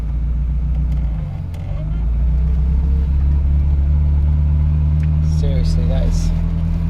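Engine and exhaust of an InfluEnzo Ferrari replica car rumble with a loud, steady low drone close by. It starts up briefly and then holds an even idle, with a few small sounds on top.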